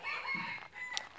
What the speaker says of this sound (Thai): ไก่ป่ามาแล้วนะครับ